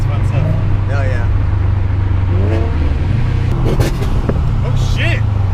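A Subaru STI accelerates hard with its turbo wastegate venting, giving a loud, steady engine drone with fluttering chirps over it, while excited voices talk over the noise inside the car.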